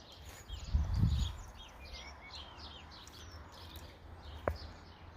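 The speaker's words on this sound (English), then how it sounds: "loads of birds" Several small birds chirp and twitter in the background outdoors, with a low rumbling gust near the start and a single brief knock later.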